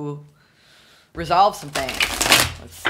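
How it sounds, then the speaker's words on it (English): Tarot cards are riffled and shuffled close up in a dense, crackling burst that follows a brief quiet lead-in, with someone speaking over the shuffle. "We're just going to shuffle one more time. And I'm sorry for the noise."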